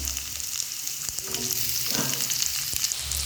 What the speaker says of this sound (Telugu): బంగాళదుంపలు, సొరకాయ ముక్కలు ఇవి మనం ముందేసుకుందామండి.